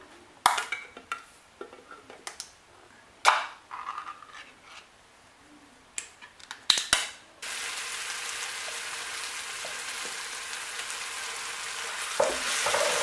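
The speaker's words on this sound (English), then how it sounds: "We're going to start by putting our already prepared palm fruits in the pot" Prepared palm fruits for Niger Delta banga soup are dropped into a cooking pot with scattered knocks and clatters. Then a steady sizzling hiss starts and carries on, with occasional utensil clinks.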